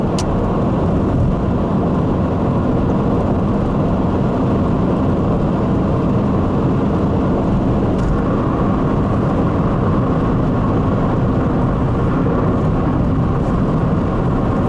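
Steady, loud roar of tyres on a motorway road surface heard from inside a car, a constant low rumble and hiss with no talking.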